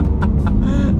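A Lamborghini Aventador accelerating hard, its loud, close engine roar broken by two sharp gear-shift bursts in quick succession.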